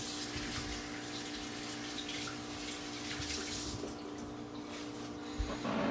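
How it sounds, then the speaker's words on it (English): A kitchen tap runs while hands are rinsed under it: a steady, close rush of flowing water with faint splashing changes, continuous for the whole stretch, with no talking. "Just going to rinse my hands here."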